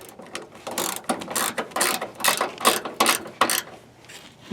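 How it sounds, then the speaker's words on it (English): A 9/16 ratchet wrench tightens a bolt while fitting suspension on a 2011 Ford F250 with a truck camper, making close, loud bursts of rapid clicking in an uneven rhythm of short pulls, with no speech. "you want to finish tightening it down with a 9/16 wrench."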